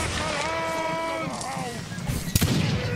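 Scattered musket volley in Mount & Blade, a few sharp gunshot cracks with one loud near blast late on, over a busy battlefield bed while someone talks.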